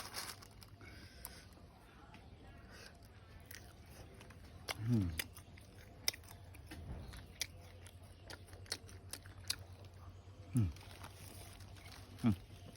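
Someone chewing fermented beef sausage (mum kho khun), with soft, wet bites and a few crunchy snaps spread out over a quiet background, close up, with a low voice briefly audible.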